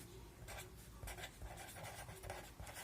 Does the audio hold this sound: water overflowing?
no